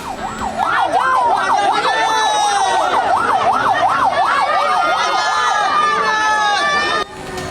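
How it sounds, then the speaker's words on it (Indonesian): An ambulance carrying a body through a crowd of residents in Deli Serdang, North Sumatra, its siren wailing loudly in a steady, fast-cycling pattern close by, with crowd noise and voices underneath. "Warga membawa jenazah Raden Barus, diduga korban pengeroyokan puluhan oknum TNI, dengan mobil ambulan"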